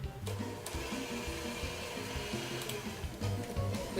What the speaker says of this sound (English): Turn up your hand mixer as soon as you see it's combined